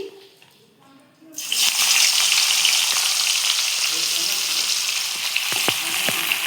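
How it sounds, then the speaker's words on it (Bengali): Chopped onions hit hot oil left over from frying fish for a spicy pabda fish curry, bursting into a loud, steady sizzle after a short quiet start, with a few clinks near the end. "এবার ওই তেলে আমি পেঁয়াজ দেব, পেঁয়াজ কুচি"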